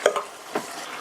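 Two short scraping clatters of a utensil stirring beef and cabbage stir-fry with green onion in a frying pan, a brief pause, then another stroke, with a faint sizzle underneath.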